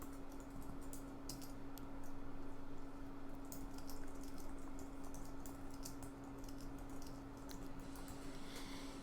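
A sentence being typed on a computer keyboard, light scattered key clicks at a soft level over a steady electrical hum.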